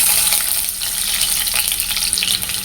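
Garlic fries in hot oil in a pan for restaurant-style chicken rice, a loud, close, continuous sizzle with stirring scrapes through it and no speech.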